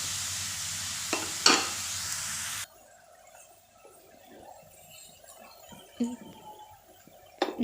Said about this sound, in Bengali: এখন আমি চার পাঁচ মিনিট ধরে নেড়ে চেড়ে পুরটা তৈরি করে নেব